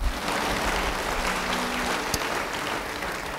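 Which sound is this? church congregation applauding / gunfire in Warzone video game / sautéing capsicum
church congregation applauding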